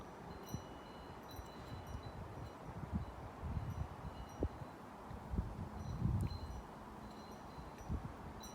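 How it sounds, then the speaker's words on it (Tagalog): Strong wind blowing outdoors with faint rustling and soft buffeting gusts against the microphone, quiet and steady, no one speaking. "malakas ang hangin."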